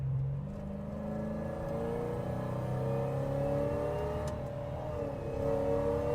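A supercharged LT4 V8 in a 1971 Chevrolet Chevelle revs inside the car, a steady mid-pitched drone with rising and falling harmonic tones as the engine climbs and settles, heard fairly quiet and continuous with no talking.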